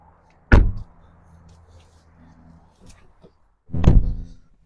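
A Volvo car door shuts twice while someone gets back into the car, each closing a loud, close thud separated by a few seconds of quiet interior shuffling.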